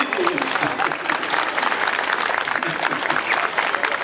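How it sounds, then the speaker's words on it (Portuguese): Audience in Santa Maria, RS applauding a singer after her performance, dense steady clapping that fills four seconds at close range, with some cheering mixed in. "Receba os aplausos merecidos!"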